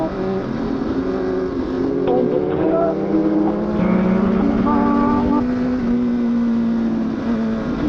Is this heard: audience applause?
no